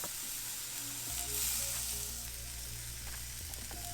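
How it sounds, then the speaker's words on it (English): An English muffin toasting on a pan in I Can't Believe It's Not Butter gives off a steady, close hiss of sizzling fat with a low hum underneath, continuous and even throughout, with no speech. "Now we're going to get our English muffin on the pan. They're nice when you toast them on here."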